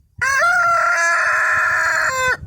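A dark Brahma rooster lets out one loud, close crow, a long sustained cock-a-doodle-doo lasting about two seconds before cutting off.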